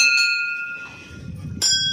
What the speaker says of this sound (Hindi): बाहर घंटी वंटी चला के बजा के ये देखिए शिव का मंदिर है